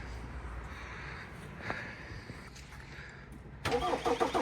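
A 2019 Ford Focus 2.0 TDCI diesel engine cranks and catches near the end, a rough burst of starting noise after several seconds of faint background rumble.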